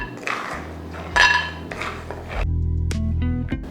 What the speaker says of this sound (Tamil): இதை வறுத்து எடுத்துக்கலாம். வெறும் கடாயிலேயே வறுத்து எடுத்துக்கலாம்.